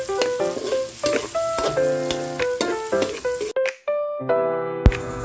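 Garlic, onion and margarine fry loudly in a pan with oil, a bright crackling sizzle broken by stirring scrapes, briefly dropping out before resuming near the mic.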